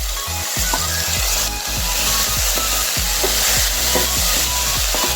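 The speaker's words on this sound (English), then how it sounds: "And then start mixing." Banana flower fry stirred in a pan: repeated scraping strokes of a spatula against the pan, roughly two per second, close and loud over a constant frying sizzle, with nobody speaking.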